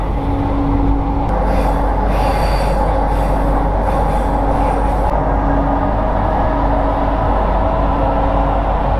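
A driverless Jakarta LRT train squeals steadily on its wheels while moving, a loud continuous metallic whine over a rumbling ride heard from inside the car.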